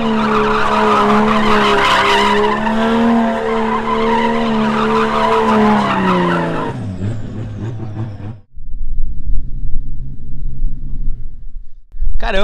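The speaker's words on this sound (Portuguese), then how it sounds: "Caramba, Igor, acabou com o pneu do rapaz ali, cara." A car drifts with its tires squealing and skidding loudly over a roaring, revving engine, then the sound cuts to a lower, rougher rumble near the end.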